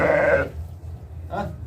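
A newborn lamb bleats loudly up close, then after a short pause gives a second, briefer bleat over low background noise.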